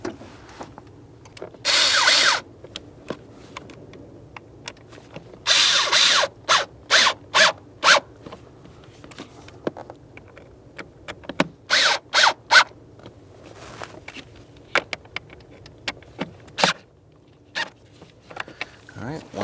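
Several short, loud bursts of a power drill driving two screws to hold a new blower motor resistor in a 2004-2012 Chevrolet Colorado, spaced irregularly with quiet handling noise and a voice talking between them.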